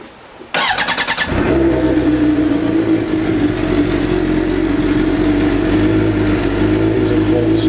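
A 2011 Suzuki GSX-R750 with an M4 GP slip-on exhaust cold-starts after a brief starter crank, then settles into a loud, steady, throaty idle that fills the rest of the clip.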